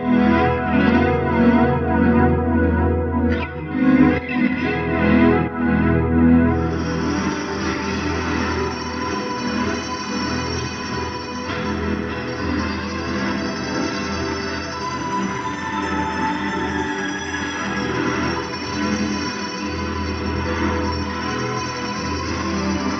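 Electric guitar played through a dream pop pedalboard, swirling with heavy modulation, chorus, echo and reverb into a dense, washy wall of sound that stays loud and sustained throughout with no talking.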